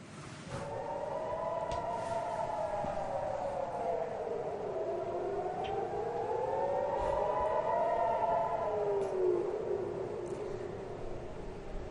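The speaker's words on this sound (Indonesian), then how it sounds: "Sirine bergema di kota Ashkelon," Air raid sirens wail over Ashkelon, Israel, during rocket fire from Gaza, a loud sustained rising and falling howl that carries across the city and stays steady throughout.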